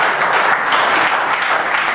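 A church congregation breaks into steady, dense applause, a loud continuous wash of many hands clapping together that fills the room without pause for the full stretch and is heard alone, with no voices over it.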